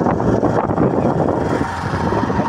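A 2024 Bajaj Platina 110 motorcycle being ridden on the road, its engine droning steadily up close with buffeting wind noise over the microphone, loud and continuous throughout.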